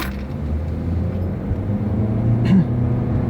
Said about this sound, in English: We'll listen to the shifts. Since it's a CVT, it goes pretty good.